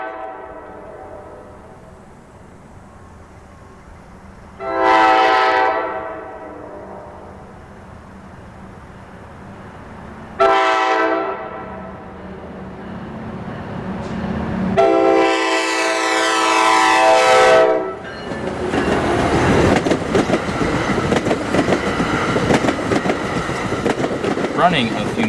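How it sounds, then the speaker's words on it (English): A New Jersey Transit commuter train leaving Ramsey Station in North Jersey sounds three loud horn blasts, the last one long, then roars past close by with rumbling wheels and clatter. "train 1169 departs Ramsey Station and rolls past Gertson on its way to Suffern"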